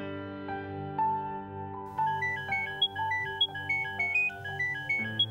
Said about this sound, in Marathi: ए, तुझा फोन वाजतोय